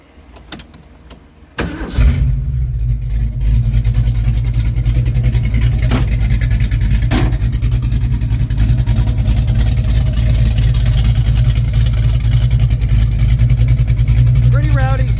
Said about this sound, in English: fire it up real quick just to see what it sounds like with the Pro chamber and no mufflers